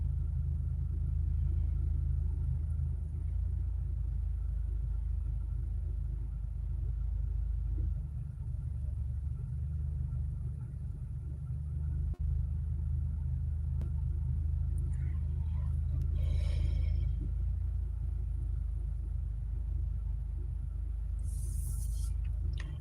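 Low, steady interior rumble inside a parked car with the engine idling and the air conditioning running, a constant droning hum with faint rustling and a brief higher hiss near the end, no talking.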